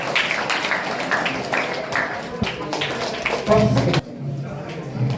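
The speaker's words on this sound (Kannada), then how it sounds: "ಚಪ್ಪಾಳೆ ತಟ್ಟಿ." Parents and teachers applauding at a school parents-teachers meeting in a hall, a burst of group clapping that continues for a few seconds, then stops abruptly, with a voice speaking over it.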